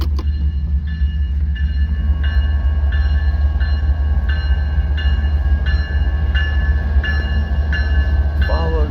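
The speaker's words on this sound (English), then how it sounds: "This is that southbound manifest coming out of Hobson Yard on the St. Joseph sub." A southbound manifest freight train out of Hobson Yard on the St. Joseph subdivision rolls past close by. A loud, steady low rumble runs throughout, with evenly spaced ringing tones repeating above it.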